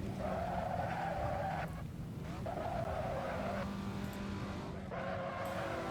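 A car in a driving video game set on a Prague track braking hard into a corner, with repeated tire squeals and skidding over a steady engine roar, three distinct screeching stretches.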